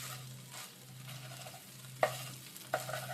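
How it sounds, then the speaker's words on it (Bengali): Pieces of butter garlic egg fry gently over medium-low gas in a pan, a soft steady sizzle broken by a few sharp scrapes and taps of a spatula stirring, with no talking. "এইভাবে করে একটু নাড়াচাড়া করে আমি নামিয়ে নেব খুব বেশি এটা ভাজতেও হবে না"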